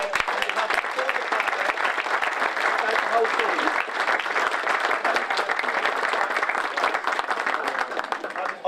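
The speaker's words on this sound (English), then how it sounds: "let's just give one more round of applause to the whole team." A crowd at a grassroots hot-air balloon meet gives the team a long, full round of applause, close and steady clapping with a few cheers and voices mixed in.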